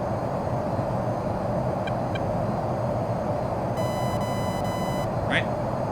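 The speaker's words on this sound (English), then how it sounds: "Now that sound was the RWR picking up a new spike, meaning a new target has appeared on RWR." Radar warning receiver chirp from an F-15 cockpit in a flight simulator game, a short bright electronic tone burst standing over steady loud engine and cockpit rumble, with a few faint blips before it.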